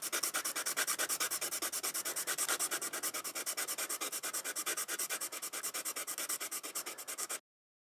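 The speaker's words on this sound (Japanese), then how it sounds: "切ったプラスチック板を紙やすりで削り微調整" Sandpaper rubs back and forth on a cut plastic sheet for a scale model aircraft, a fast, regular scratchy rasp with close, steady strokes that run until an abrupt stop.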